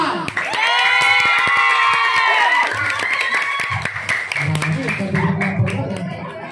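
A crowd of children at a kids' party claps and cheers for candidate number 1, a dense burst of clapping, shouts and squeals that fades into scattered voices and lighter claps.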